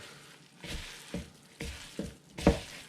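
Meat dropped into a hot pan, sizzling and frying in a few bursts of crackle roughly every half second, the last one loudest, close and with no talking.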